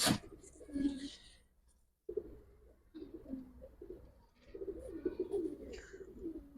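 Giribaj flying pigeons coo in low, rolling bursts close by, several phrases separated by short pauses, with a voice briefly audible among them.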